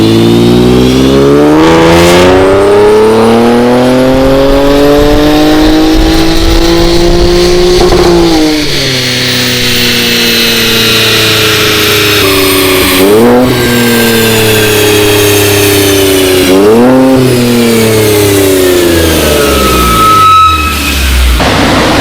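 An Infiniti Q50 with the VR30 engine revs hard and close during a pull, the note climbing steadily through several gears with sharp drops at each shift, loud throughout with no talking.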